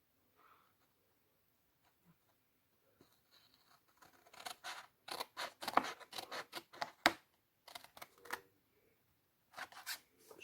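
Scissors cut through paper for a Carabelle scrapbook album, a run of sharp, close snips in quick bursts with short pauses between them after a quiet start.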